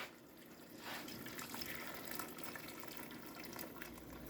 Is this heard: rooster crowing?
no